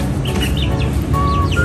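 Soft, repeated clucking and chirpy peeping from a chick, close by, over a steady low background rumble.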